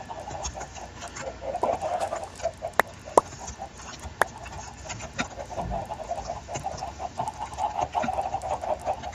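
A flock of chickens in Minecraft clucking in dense overlapping bursts, with occasional sharp clicks over a steady, busy background and no talk.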